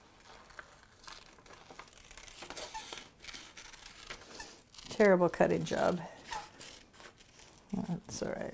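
Scissors cutting a paper puppet, a quick series of crisp snips and crinkles, close and fairly loud, with someone talking around them.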